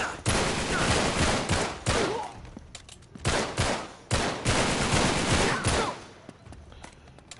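Gunfire in Uncharted 3 crackles in loud repeated bursts, several volleys with short pauses between them, close and dominant with little else audible.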